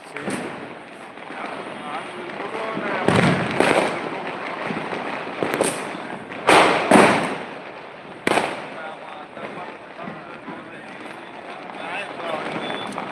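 Firecrackers burst far off in a string of scattered, muffled pops and thumps over a steady outdoor hum, while someone talks continuously nearby.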